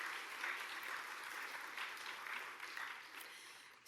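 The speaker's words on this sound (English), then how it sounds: "So you can give them a round of applause too." Fairly quiet audience applause at an evening memorial lecture, even clapping that continues for about four seconds with a slight fade near the end.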